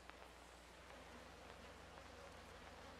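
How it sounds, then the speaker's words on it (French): Flies buzz steadily inside a house in the horror video game Outlast 2, a faint continuous droning hum with no pauses, heard alone. "Ça, c'est des mouches."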